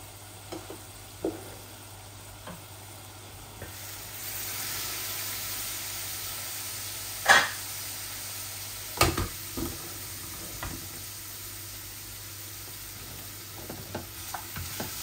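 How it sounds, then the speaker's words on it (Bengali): Steady sizzle of teasel gourd frying in a pan, with occasional sharp clinks and scrapes of a utensil, no voices. "এখানে 5টা কাঁকরোল ভাজা করতেছি"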